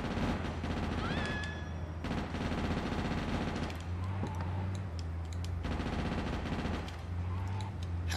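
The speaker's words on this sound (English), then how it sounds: "I keep shooting the wrong people" Gunfire in Grand Theft Auto Chinatown Wars, rapid shots rattling in dense bursts over constant game noise, with a short rising electronic tone early on and brief pauses between volleys.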